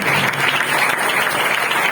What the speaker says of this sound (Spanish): Dele esa ofrenda de aplausos al Señor